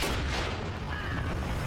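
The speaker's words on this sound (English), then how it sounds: "explosions on high speed with water look really cool" A 50-pound charge detonating in a water-filled lagoon sends a loud, sustained low boom rolling through the whole stretch, with dense rumbling energy and no voices.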